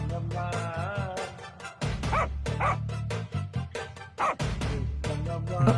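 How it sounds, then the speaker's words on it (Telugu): A dog barks and yips repeatedly in bursts on a street at night, the barks loud and close over a steady background of music or tonal hum. "నిన్ను అప్పుడు ఫాలో అయింది ఇప్పుడు ఫాలో అయింది ఇదే కుక్క కదా?"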